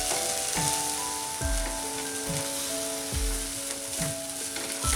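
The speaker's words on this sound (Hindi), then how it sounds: "मसाले को अच्छी तरह से भूनना है।" Spiced masala with chopped fresh coriander sizzles and fries in a hot pan, a steady close crackling hiss with soft repeated stirring scrapes throughout, no voices.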